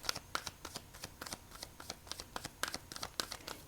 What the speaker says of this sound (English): We're going to do one complete shuffle